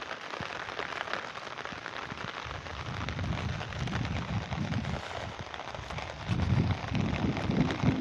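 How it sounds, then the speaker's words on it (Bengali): A heavy monsoon-style downpour hisses steadily and softly throughout, with a denser, heavier patter of rain in the last two seconds. "মুষলধারে বৃষ্টি পড়তেছে দেখুন"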